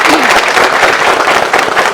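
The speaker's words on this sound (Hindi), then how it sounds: "बजाइए जोरदार तालियां सर के लिए" An audience at a direct-selling event in Khunti district, Jharkhand, breaking into dense, sustained clapping, loud and close, with voices mixed in under the applause.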